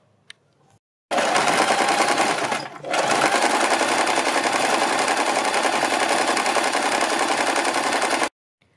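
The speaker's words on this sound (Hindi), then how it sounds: "फोल्ड करने के बाद हम इस पट्टी पर सिलाई लगा लेंगे, यानी इस पट्टी को हम सील देंगे।" Sewing machine stitching a folded fabric strip for a blouse or suit neckline, a fast steady mechanical rattle that starts abruptly, dips briefly once, then runs continuously for about seven seconds before stopping, loud and close with no talk.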